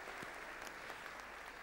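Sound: audience applause

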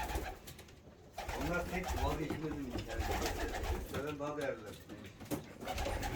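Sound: pigeons cooing

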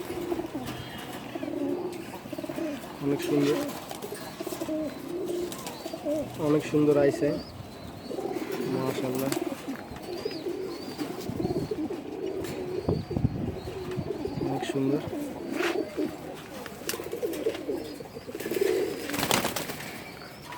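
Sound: Sapchila pigeons cooing

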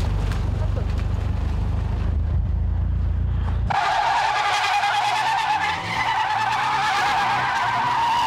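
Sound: cars drifting with skidding tires on a mountain pass

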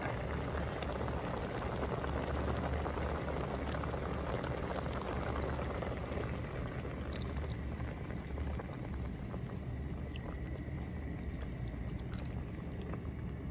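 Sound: coconut milk poured into pot of crab stew

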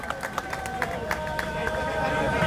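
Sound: audience applause

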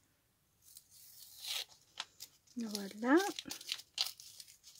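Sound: paper tearing

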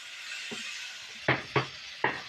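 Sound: stir-frying fried katla fish heads with spice paste

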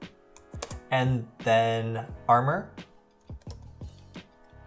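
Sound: typing on a computer keyboard

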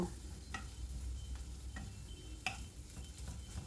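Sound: chopped onion frying in oil in a wok

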